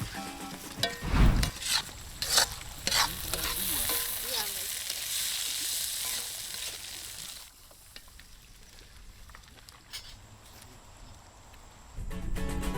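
Sayok stir-fried in fragrant sautéed woku spice paste, a Minahasa dish by Lake Linau, with a steady hiss of frying and scattered clanks and scrapes of stirring, loud at the start and fading to a quieter sizzle.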